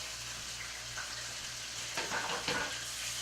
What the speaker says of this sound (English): And if your pan does not make that sizzle, you're not hot enough.